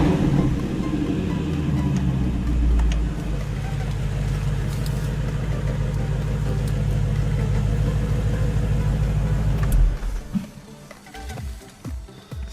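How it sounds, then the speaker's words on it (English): Supercar engine idling with its active exhaust in sport mode, a deep steady rumble heard up close that cuts off abruptly near the end, leaving thumps and shuffling noises. "I have a separate video where I do a real tutorial of the active exhaust system here, where you have the normal mode and the sport mode"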